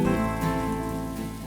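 Steady rain falls in a short, constant patter heard indoors, mixed with a sustained tonal musical bed that runs through it.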